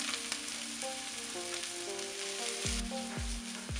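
Beetroot and grated potato sizzle and fry in a pan while being stirred, a steady crackling bed with scraping strokes of the spoon near the end, close and moderately loud with no talk.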